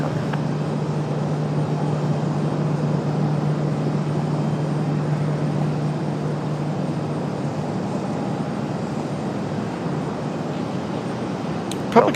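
A FedEx airplane taxis out toward the end of the runway at Raleigh-Durham International Airport, its engines making a steady, broad roar that holds evenly throughout without any talk.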